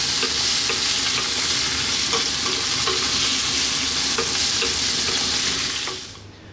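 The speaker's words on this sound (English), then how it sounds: "I'm going to stir this for 3 minutes max." Sweet and sour sauce with pineapple juice sizzling in a wok while being stirred, a loud continuous hiss with scraping stir strokes, fading at the end.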